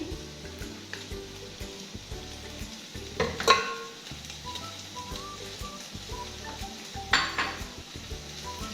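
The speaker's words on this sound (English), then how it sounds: "Then I will add our grated raw pawpaw." Grated raw pawpaw going into a sizzling pot of Swahili biriani, close frying hiss with utensil scrapes and metallic clanks against the pot, two sharper knocks standing out.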